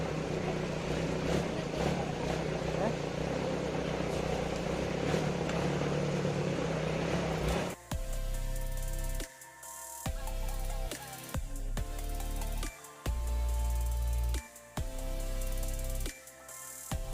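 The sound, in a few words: off-road vehicle ride in Kanthalloor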